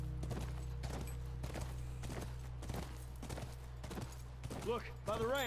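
Steady, rhythmic horse hoofbeats clip-clop in The Last of Us video game over a constant low rumble, joined near the end by a short burst of voices.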